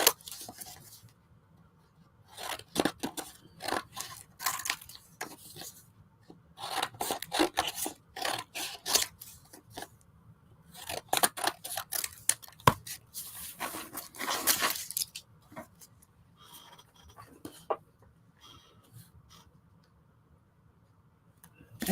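Scissors or a blade cut through cardstock in bursts of crisp rasping, rubbing strokes, with short pauses between cuts and quiet gaps toward the end, close and fairly loud.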